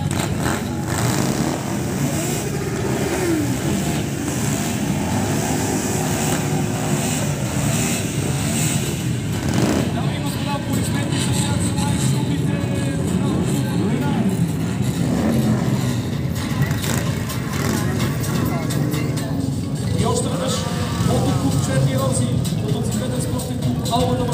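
Motorcycle and car engines rumble and rev continuously at a Kazanlak motorsport parade, loud and close, with crowd noise and talking mixed in throughout.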